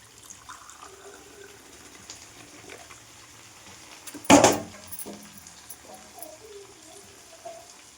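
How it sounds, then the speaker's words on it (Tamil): Two tumblers of milk poured over carrots in a pan for carrot halwa make a brief, close splashing gush near the middle, rising suddenly and fading quickly against a quiet kitchen background. "இதில் ஒரு 2 டம்ளர் பால் ஆட் பண்ணணும்."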